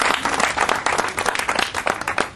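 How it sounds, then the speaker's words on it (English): A short, lively round of clapping from guests at a party for a state senator, a burst of overlapping handclaps at close range with little talk. "give them a round of applause."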